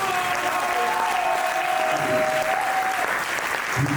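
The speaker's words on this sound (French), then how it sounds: "applaudissez pour vous-même" An audience at a slam poetry show applauds, with loud, steady crowd clapping that fills the room the whole time, and a thin whistle rising above it partway through.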